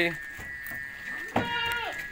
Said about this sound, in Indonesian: terus kambing ini sangat agresif